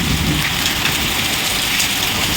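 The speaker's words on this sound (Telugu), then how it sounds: "వర్షం మాత్రం ఆగట్లేదు" Heavy night rain pours down steadily outside a house, a dense, loud hiss of drops drumming on surfaces that never lets up.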